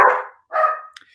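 A dog gives two short, close barks in quick succession, followed by a faint yip.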